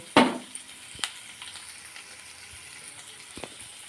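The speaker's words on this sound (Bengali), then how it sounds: "এই যে জিরা তেজপাতা গরম মশলা দিয়ে দিলাম ভালো করে ভেজে নেব" Cumin, bay leaf and garam masala hit hot oil with a sharp initial sizzle that settles into a quieter frying hiss, with a few light clinks of a spoon against the pan.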